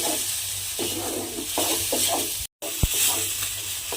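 Sour yogurt and spices for a cauliflower dum being stir-fried in a pan, giving a steady sizzle with repeated scraping stir strokes, a brief dropout partway through and then a single sharp knock.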